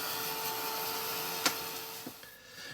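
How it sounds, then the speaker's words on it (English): A heat gun blows a steady, moderately quiet whooshing hum over wet gold paint on an art journal page, with a brief knock partway through and a light tap near the end. "grab the heat gun, because I just need to dry that little bit of gold paint off"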